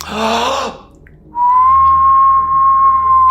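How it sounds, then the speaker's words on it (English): A steady, eerie high whistle holds one pitch for a couple of seconds after a brief breathy, voice-like burst at the start. "accompanied by an eerie whistling sound"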